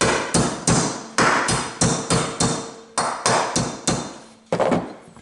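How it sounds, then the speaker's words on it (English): A hammer strikes the stuck valve of a lawn mower engine about a dozen times in sharp, ringing metallic blows, loud and close, with uneven pauses between bursts. "a bop with a hammer to try to shock to break it loose"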